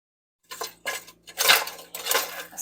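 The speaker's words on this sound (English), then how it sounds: "Got me a slotted spoon" Metal cutlery clattering and scraping as a slotted spoon is pulled from a utensil holder in a home kitchen, several bright clinks and rattles in quick bursts, close and fairly loud, no talking.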